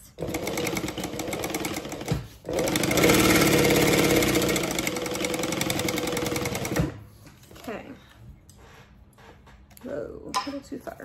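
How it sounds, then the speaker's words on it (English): Sewing machine running a long seam with a larger back-stitch setting on small card-slot pocket pieces, loud steady whir for several seconds, then stopping as a person talks briefly. "I'm just gonna sew down that line, starting at the very top, still with the larger stitch"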